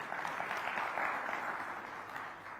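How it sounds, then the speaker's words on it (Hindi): Audience applause at a Chunav Manch political event, a continuous wash of many hands clapping, fairly faint and distant, with no distinct talk over it. "ताली बजाओ यार इनके लिए।"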